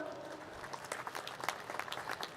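Faint, distant applause from a convocation audience: a dense patter of many hands clapping, low in level and steady for a couple of seconds.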